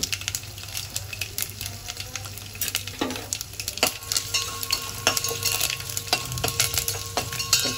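Tempering (talimpu) sizzles and crackles in a pan as a close, busy spatter with sharp pops and light metallic clinks throughout.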